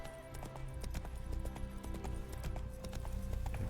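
Rhythmic clip-clop of horse hooves on a road in The Witcher 3 game, a quick steady gait close by with a faint background score.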